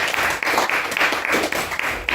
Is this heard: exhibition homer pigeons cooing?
no